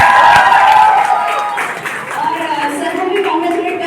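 Seminar audience claps for themselves, a dense wash of applause that starts loud and stays steady, with crowd noise and a voice talking over it toward the end.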